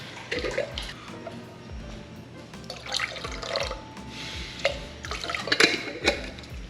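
Pickle juice poured into a bowl of buttermilk and two eggs while making a fish batter: light, irregular splashing and trickling at moderate level, with several brief louder bursts and soft background noise.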